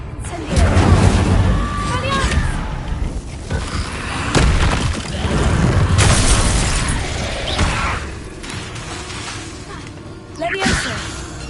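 An Incendio fire spell cast in the Hogwarts Legacy video game, with repeated booms, bursts and whooshing blasts of magic over roughly ten seconds, under a voice talking.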